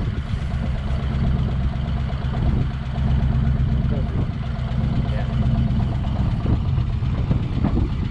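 A barn-find 1973 Chevy Chevelle SS 454 with a Muncie 4-speed, running on old bad gas, idles with a steady deep rumble and a slight surge midway, while people talk over it.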